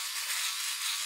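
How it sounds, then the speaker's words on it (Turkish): A Philips OneBlade electric trimmer buzzes steadily as it passes over a beard, giving a short, even, close-up whirring hum. "Aslında bir kere daha üstünden şöyle geçsem"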